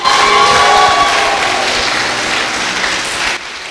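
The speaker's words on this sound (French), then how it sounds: "Est-ce qu'on peut l'acclamer?" Church congregation in Dakar bursting into loud, dense applause and cheering, sustained throughout before dropping slightly near the end.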